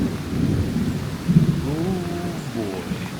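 A thunderstorm with rain on an Ecuador birding trail, low rolling thunder rumbling under steady rainfall, moderately loud, with a brief faint vocal sound near the middle.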